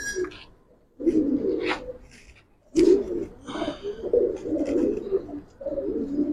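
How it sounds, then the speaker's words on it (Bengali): Deep, throaty cooing from a silver Giribaz pigeon comes in several close, repeated bursts with short pauses between, alongside a few faint higher chirps in the background. "অনেক সুন্দর একটা কবুতর আলহামদুলিল্লাহ।"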